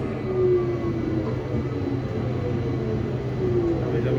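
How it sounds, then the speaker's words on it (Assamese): An automated airport shuttle train runs between terminals at a Paris airport, a steady rumble and hum with faint squealing tones as the car glides along, continuous and fairly close. "ট্ৰেইনখনে আমাক টাৰ্মিনেল 2 পৰা এতিয়া টাৰ্মিনেল 3 পোৱাই দিলে"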